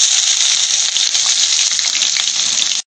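Onion dropped into hot oil in a pan gives a loud, steady sizzle with no pauses, cutting off sharply at the end.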